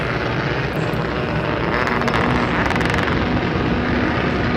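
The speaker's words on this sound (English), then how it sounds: "You can hear all the wastegates chattering away in the background." Rallycross supercars sit at the start line at Tierp Arena in Sweden, turbo wastegates chattering in a dense, continuous mechanical roar with rapid crackling bursts and flutter layered over it.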